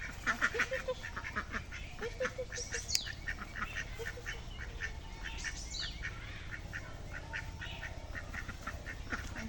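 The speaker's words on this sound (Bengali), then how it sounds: "2টা বড় হাঁস আছে আমার। এই যে আমার হাঁস দুটো এখন খাবে।" Two adult ducks quack while eating in a quick steady series of short, sharp calls nearby, with faint background noise and no talking.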